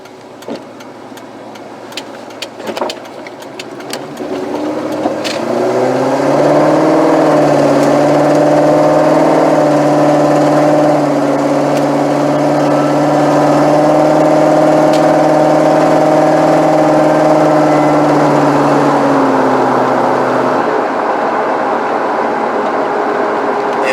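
After a few clicks, a Ford Mustang's engine revs up and holds a loud, steady drone while driving, then cuts back near the end.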